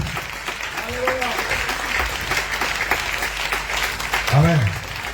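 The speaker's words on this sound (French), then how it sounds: "on acclame pour le Seigneur Jésus" A congregation at a Cameroonian church service claps for the Lord Jesus, a dense, steady applause that fills the whole stretch, with voices rising over it near the end.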